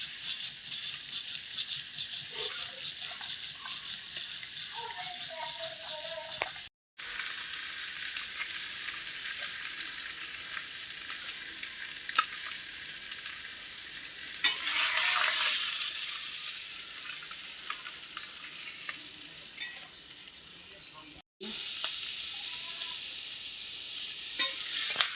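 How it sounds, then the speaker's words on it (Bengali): Chopped onions frying in oil for rohu fish kalia, a continuous bright sizzle in a pan with brief stirring and gaps, steady and close throughout. "পেঁয়াজ কাটা ভাজা ভাজা হবে।"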